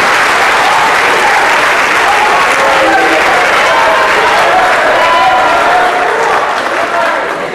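Loud, sustained applause from an audience at a school event honoring Director Scholarship winners: a thick wall of many hands clapping, continuous and undiminished for over seven seconds before easing slightly at the end.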